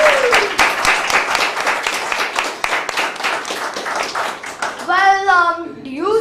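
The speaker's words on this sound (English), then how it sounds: "Another round of applause, please." A smaller audience at a school event claps for two children's performance, distinct individual hand claps forming uneven applause, with a voice rising near the end.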